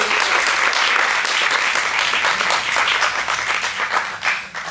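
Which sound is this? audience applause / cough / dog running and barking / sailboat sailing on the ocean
audience applause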